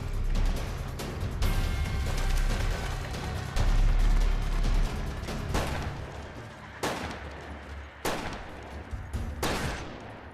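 Gunshots in a western movie ring out in a loud, dense barrage, several sharp cracks standing apart near the end, with heavy rumbling beneath and no talk.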